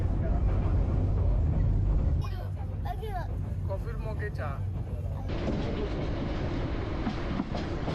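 The Paharika passenger train running from Chittagong toward Akhaura rumbles steadily with a rattling, clattering hum throughout, while a voice talks over the middle stretch.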